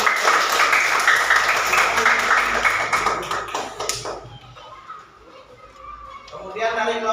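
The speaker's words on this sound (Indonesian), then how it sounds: "kalau sudah betul beri tepuk tangan dulu" A classroom of children claps together in quick, loud, steady rhythm for several seconds, then stops abruptly; kids chatter and a voice talks afterward.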